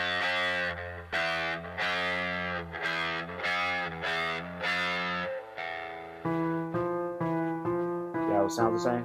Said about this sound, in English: If we start with E and we play a half step up, that should be F.